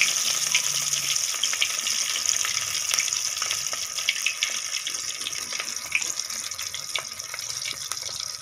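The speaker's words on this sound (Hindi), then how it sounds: "इस तरह गोभी के पीसेस के ऊपर ये मिक्सचर लगाते जाएं और इसे फ्राई कर लें।" Batter-coated cauliflower pakoras frying in oil, a continuous dense sizzle with crackling pops throughout, fairly loud and close.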